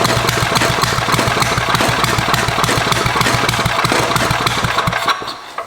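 An old barn-found Tecumseh four-stroke engine runs loud and steady, its rapid, even firing pulses continuing without a break before dying away in the final half second.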